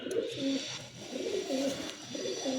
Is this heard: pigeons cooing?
yes